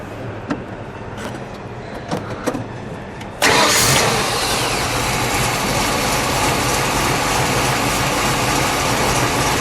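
A 1966 Sunbeam Tiger Mark I's 260 cubic inch V8 cranks over and catches, then roars into a steady, loud, throaty idle with slight revving, preceded by a few quiet clicks.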